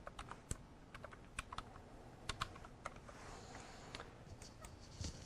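Typing a short text note on a computer keyboard, a quiet run of irregular close key clicks with brief pauses, heard alone without speech.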